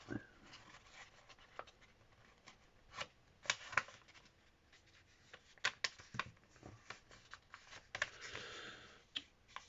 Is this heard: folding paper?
yes